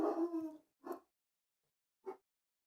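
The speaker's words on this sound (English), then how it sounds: "you guys can hear the dogs barking" Dogs outdoors howl and then give two short, separate barks, faint and distant, with long quiet gaps between the sounds.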